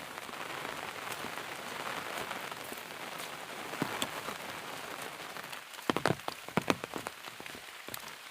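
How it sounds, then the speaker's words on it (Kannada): Heavy rain falls in the open countryside near Malenad hill villages, a dense steady patter with scattered louder drops striking nearby surfaces toward the end. "ಮಳೆ ಮತ್ತೆ ಜೋರಾಗಿ ಬಂತು."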